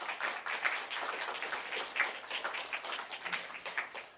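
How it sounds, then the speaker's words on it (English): An audience at an animation-studio talk gives a round of applause for the event staff: soft, steady crowd clapping, a fairly distant patter that runs the whole stretch without pause. "So just a round of applause for all of them."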